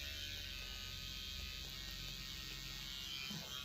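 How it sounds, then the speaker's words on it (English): A small electric mini trimmer runs at low speed on a cat's or dog's fur, a faint steady buzzing hum heard up close with no talking. "give her a little bit of a sanitary trim around her bum. And use my little mini trimmer."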